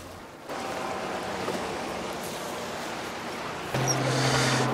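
A steady low engine drone with rushing water noise, a bass fishing boat moving along Lake Kasumigaura during a tournament; the motor gets louder near the end.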